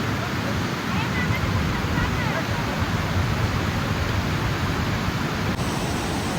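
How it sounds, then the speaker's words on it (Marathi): Forceful water rushing over a deep waterfall, a loud, steady, broadband roar that fills the scene without pause, heard up close. "पाणी बघितलं वॉटरफॉल आहे काय ते?"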